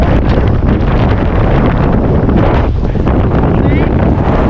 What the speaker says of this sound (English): Gusts are around 40-50 miles per hour.